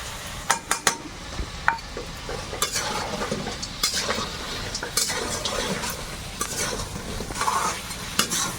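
Crab in mustard paste fried and stirred in a pan for a Sundarbans crab kasha, with loud, close sizzling and repeated metal scraping and clanking strokes against the pan, alone without talk.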